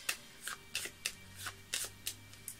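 An Arcana of Astrology card deck is shuffled close up in quick, even riffles, about eight crisp bursts of cards with no voices.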